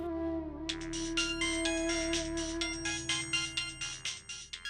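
A telephone ringtone plays a repeated electronic melody at steady volume, with no voices over it, as a call comes in during a Bengali TV serial scene.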